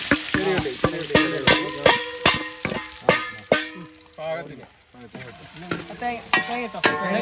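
Onions frying in a pan for a Kerala-style chicken dish, stirred with a spoon in repeated scraping strokes over a steady sizzle, close and fairly loud, with brief talk in places.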